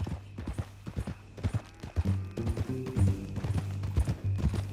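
Horse hooves clip-clop in an uneven trotting rhythm in the video game Red Dead Redemption II, close by, with a low tonal hum underneath.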